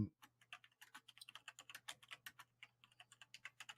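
Typing on a computer keyboard, close and fairly quiet, with rapid irregular clicking keystrokes and short pauses and no talk.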